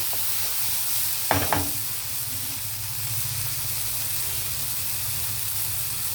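Tomatoes going into a pan of sautéing onions for green peas pulao: a soft continuous sizzle, broken early by a brief clattering thud as the tomatoes drop in, then steady frying.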